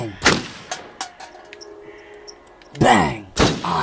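Gunshots fired at bottles in the horror video game Until Dawn: several sharp, punchy bangs spaced irregularly, with a person talking loudly in between and over the later shots.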